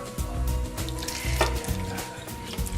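Fresh tomatoes broken by hand into a hot pan for salsa, sizzling and frying steadily up close with soft stirring clatter and wet spatter throughout.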